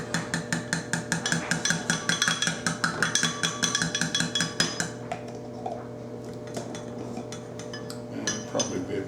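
Metal spoon clinking and scraping rhythmically against the inner pot of an Instant Pot while stirring beef broth for a pot roast, a fast run of sharp ringing taps that slows and thins out, close and fairly loud with a steady hum underneath.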